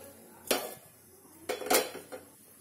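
A metal cooking pot is set onto a stove with a few sharp, close clanks, one near the start and a cluster about a second later, separated by quiet gaps.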